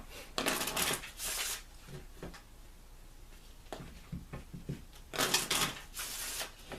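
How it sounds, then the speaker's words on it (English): Kipper oracle cards being shuffled by hand, quiet close-up bursts of riffling and sliding card stock in two main flurries with softer taps and rubs in between, no talking. "So I'm shuffling, and I love how these shuffle."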